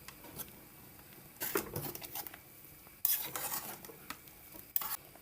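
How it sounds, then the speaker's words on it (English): Corn dumplings stirred in a pot on the stove, a spoon scraping and knocking against the pot in a couple of short bursts with a light sizzle in between, fairly quiet and close with no speech. "Giving my corn dumpling a stir."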